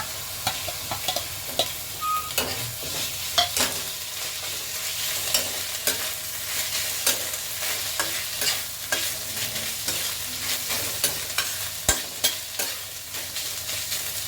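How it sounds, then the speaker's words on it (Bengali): Ginger-garlic paste and onions fry together in a pan for a fish-head mudi ghonto, a continuous low sizzle broken by frequent rhythmic spoon scrapes and stirring taps, close by, with no voices. "একটু ভাজা ভাজা হোক, তারপরে বাকি মশলাগুলো দেবো।"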